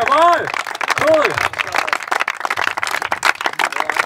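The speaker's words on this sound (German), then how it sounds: "du kriegst einen Applaus" A group applauds a person lying on a bed of nails: dense, steady clapping builds after a voice speaks at the start and continues loudly to the end.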